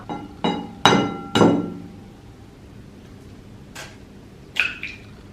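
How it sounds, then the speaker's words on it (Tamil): Eggshells crack sharply against a bowl rim as four eggs are separated into whites and yolks, a few distinct close taps and clinks spaced apart, with quiet gaps between them. "அதுல ஒயிட் தனியாவும் யோக் தனியாவும் நான் செப்பரேட் பண்ணி எடுக்க போறேன்."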